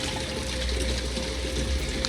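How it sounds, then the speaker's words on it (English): Water pouring steadily into a plastic bottle in the Project Zomboid video game, a continuous, fairly loud rushing fill with no talk over it. "And then we fill up our bottle with water."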